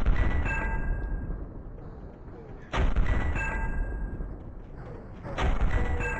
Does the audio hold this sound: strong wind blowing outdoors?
no